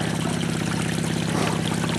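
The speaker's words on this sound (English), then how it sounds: "You can see the water flow we've got." Pump-fed water rushes steadily over the riffles and mat of a gold sluice box, a close, continuous hissing flow with a low mechanical hum beneath it.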